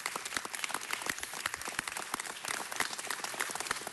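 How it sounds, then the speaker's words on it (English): Applause from a city council meeting audience honoring community advocacy organizations, a steady, dense patter of many hands clapping close by, continuous and even throughout. "Give them a round of applause."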